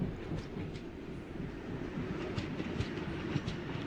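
A train rolls past in the Indian Train Crossing 3D video game, a steady rumbling clatter with rhythmic wheel clicks and faint metallic squeals, continuous and moderately loud with no talk.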